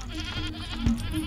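A goat bleats briefly in the video game Sally Face, a short, mid-loud wavering cry set against steady ambient game noise.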